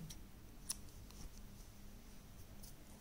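Scissors snip crochet thread with a single sharp, close click, followed by faint handling noise in a quiet room.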